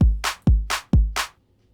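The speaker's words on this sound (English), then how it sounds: "And if we want to clap on the off beats," Programmed drum-machine claps in FL Studio alternate with deep kick hits, three kick-clap pairs in a steady loud pattern before the beat stops, with no talking.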